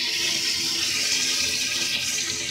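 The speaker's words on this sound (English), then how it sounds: "as you can hear, that water's just pumping like crazy." Water pumps through a hose into a 700-gallon tank beneath a house, a steady, loud, continuous rushing gush with no pauses.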